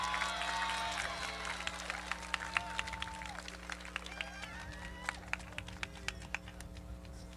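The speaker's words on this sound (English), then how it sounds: "Let's give her one more round of applause." Audience applause at a high school graduation ceremony, a broad sustained wash of clapping in a large venue, with scattered sharper claps and a faint voice early on, gradually tapering.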